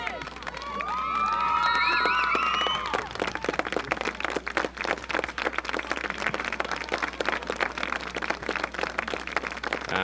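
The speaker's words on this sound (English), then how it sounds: "And the round of applause you hear" Crowd applause and cheering at a girls' high school soccer game, East Brunswick against Piscataway, a sustained burst of clapping that swells then continues more loosely, with a voice talking over it.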